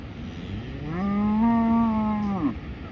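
A single cow lets out one long, loud moo of about a second and a half in a remote mountain valley summer pasture, over faint outdoor background noise.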